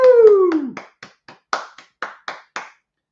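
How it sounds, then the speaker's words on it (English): A whoop rings out, then a handful of sparse, crisp claps follow at an uneven rhythm, close by and fading out after about eight claps. "Let's all give her a big round of applause."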